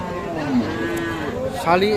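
A Sahiwal cow lows once, close and clear, at a busy cattle market, with faint crowd murmur behind it.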